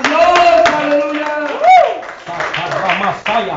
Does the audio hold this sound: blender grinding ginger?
no